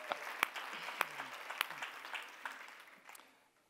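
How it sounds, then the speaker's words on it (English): A room audience applauding executives at a business talk, moderately loud clapping with a few sharp claps standing out, tapering off toward the end. "Let's give our executives a big round of applause."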